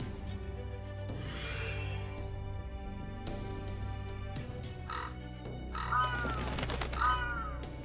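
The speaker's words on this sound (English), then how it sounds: "Crows?" Crows caw in a fantasy role-playing game scene, a few harsh calls near the start and a louder pair of caws toward the end, layered over a steady orchestral music bed.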